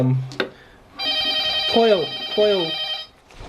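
An office telephone rings with a bright, warbling electronic trill that lasts about two seconds, close by, between bits of nearby speech.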